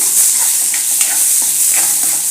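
Broken rice grains, washed and still damp, roast and get stirred in hot ghee for a traditional jaggery rice kheer, giving a steady close sizzle with light scraping stir clicks throughout, no voices.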